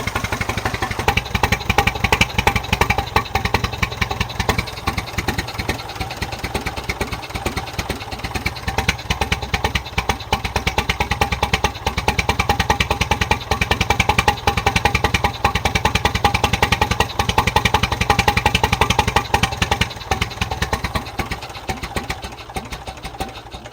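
A John Deere 1010 garden tractor engine with a new carburetor runs steadily at a fast, chugging idle with a rattly exhaust note, close and loud for the whole stretch.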